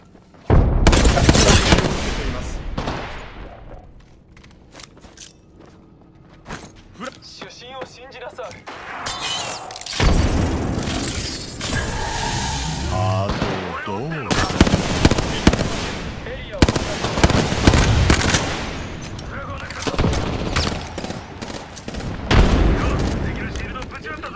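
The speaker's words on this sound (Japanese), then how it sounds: "グレネードを投げます。" Explosions and gunfire in the video game Apex Legends: loud, dense bursts of booms, shattering blasts and rapid shots come in waves with short lulls, while a voice speaks over the action.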